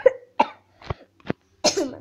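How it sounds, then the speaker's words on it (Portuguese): A few small coughs and throat clears, close and moderately loud, spaced unevenly over two seconds with short silences between, part of a comic monster-girls party skit. "uma tossidinha"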